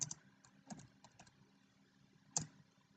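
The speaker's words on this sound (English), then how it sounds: "You obviously would just type into this little window," Quiet keystrokes on a computer keyboard, a short, uneven cluster of soft clicks followed by a pause and then a single louder tap, as if pressing enter.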